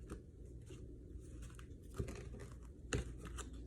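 Soft papery riffling and a few sharper snaps of tarot cards being shuffled, quiet and close, with no voices.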